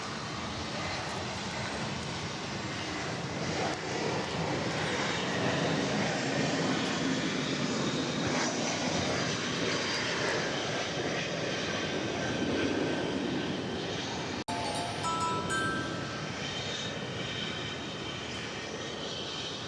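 Airliner taking off from runway 18 right at DFW Airport, a loud sustained jet engine roar filling the whole span, steady and close, with a sharp click near the end and no talking.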